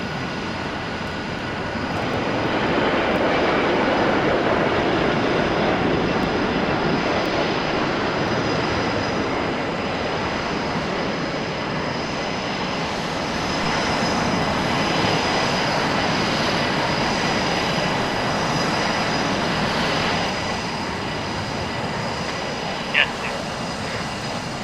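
Jet aircraft flying past in the Arma 3 game, a broad, sustained roar that swells and eases across nearly half a minute, with a brief click near the end.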